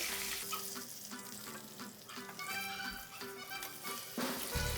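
Cumin seeds and curry leaves fry in a pan for coriander chutney, giving a steady close crackle and sizzle under tuneful background music.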